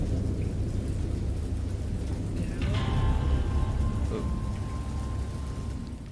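A rainstorm with rolling thunder in the horror game Dagon: a steady, loud wash of rain and low rumble throughout, with a brighter crackling surge of thunder near the middle.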